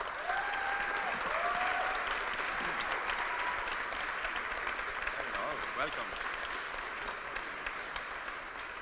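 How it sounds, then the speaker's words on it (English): Audience applause for the director of Toy Story 4 at a Q&A event, a sustained wash of many clapping hands with a few cheers and voices rising over it, steady throughout. "quiero que le demos un gran aplauso"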